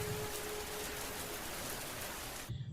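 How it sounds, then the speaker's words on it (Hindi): Steady rain falling on the roof of a village hut, a dense, even patter that stays constant throughout, then cuts off abruptly near the end. "झोंपड़ी की छत पर बारिश टपकने की आवाज सुनाई दे रही थी।"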